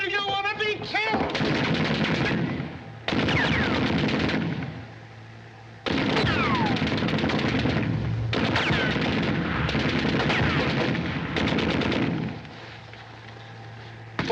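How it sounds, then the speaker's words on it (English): Machine guns rattle in long, loud sustained bursts during a wartime battle scene in a 1941 film, with brief lulls between volleys and faint voices mixed in under the gunfire. "Machine guns!"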